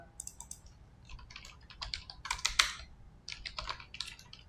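Keys clatter on a computer keyboard in quick irregular bursts, close and fairly quiet, with short pauses between runs of typing and no voices.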